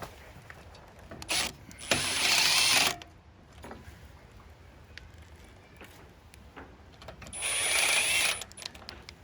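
A stair railing bracket being screwed in, with two loud ratcheting, whirring bursts of a driver several seconds apart and quiet clicks and handling noise between them; no talking.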